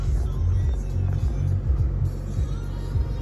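A used 2020 Mazda CX-9 Touring idles just after starting, a low steady rumble close by with faint rhythmic pulsing, no voices over it.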